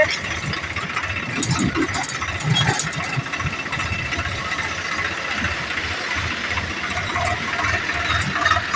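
A tractor engine with a seed-sowing machine attached runs steadily throughout, with a constant mechanical rattle and clatter and no pauses.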